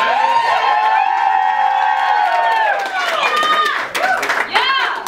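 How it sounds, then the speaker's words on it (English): An audience at a literary salon reading cheers and whoops, with shouts and scattered clapping swelling loud at first, then breaking into shorter bursts of hollering. "It says pause for wild applause on my script."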